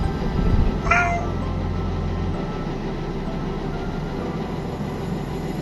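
A shy stray cat gives one short meow near the start, heard over a steady low rumble that continues through the rest of the stretch.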